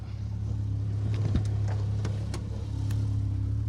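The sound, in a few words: Peugeot 205 GTI rally car on asphalt stage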